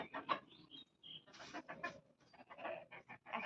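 Hens, one having just laid an egg, cluck and murmur in short, uneven bursts nearby, fairly quiet, with brief pauses between the calls.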